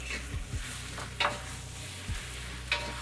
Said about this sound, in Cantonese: 我轉得好慢咁樣炒俾大家睇